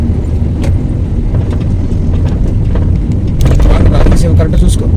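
A car in third gear during a driving lesson, its engine and road noise a steady loud rumble from inside the cabin that swells slightly toward the end.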